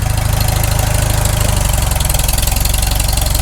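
Farmall Super M tractor engine running under load from its hydraulic pump pushing against the relief valve, a loud, steady, rhythmic low chugging heard close up without talk.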